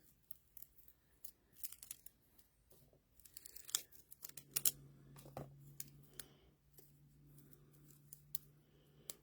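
Scissors snip through artificial greenery in a quick run of crisp, close cuts, with rustling and crinkling of the sprigs between snips and no talking.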